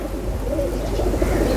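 Pigeons coo steadily inside a loft holding around twenty racing pigeons, soft low murmuring calls overlapping continuously at close range over a constant background hum, with no talk.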